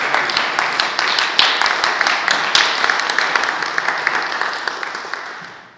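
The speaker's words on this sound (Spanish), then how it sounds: "Denle un fuerte aplauso." A church congregation at a revival crusade breaks into loud applause, dense clapping with a few sharp close claps, holding steady and then tapering off toward the end.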